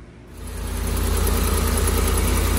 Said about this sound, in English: Now we're going to quite simply let the engine run